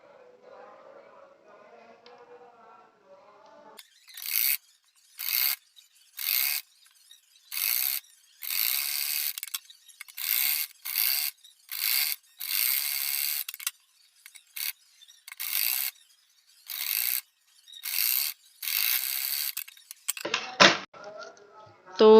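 A sewing machine stitches a strip onto net fabric for a blouse, running in repeated bursts of rapid mechanical whirring separated by short pauses, after a quiet lead-in with faint talk and ending with a brief voice.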